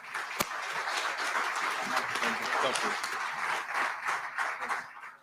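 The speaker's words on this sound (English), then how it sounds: "So a big round of applause to everybody in the building room steering committee" Audience applause at the closing plenary of a summit, a steady, moderately loud crowd clapping that tapers toward the end, with voices murmuring underneath.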